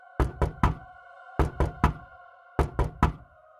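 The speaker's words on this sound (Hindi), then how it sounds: "कोई दरवाजा खटखटाता है।" Three sets of three sharp knocks on a door, evenly spaced, ringing over a soft sustained tonal background.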